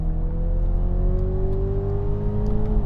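Toyota Supras, including an old Mk4 with a 2JZ engine, accelerate hard in a rolling drag race, a loud, close engine drone whose tone climbs steadily with rising revs, with no speech.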